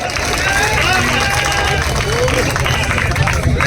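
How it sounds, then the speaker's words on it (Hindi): An audience at a Vijayadashami weapon-worship gathering with a poet's recital applauds, a steady, loud wash of clapping that runs unbroken throughout, with crowd murmur beneath. "तालियां जोरदार बजाइए एक बार।"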